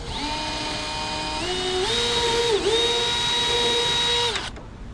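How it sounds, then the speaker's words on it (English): A power drill whines steadily at high pitch, its tone rising and dipping as it bites into a boat hull for a rudder post installation, then stopping abruptly. "gathering up the nerve to drill a hole in your nice boat"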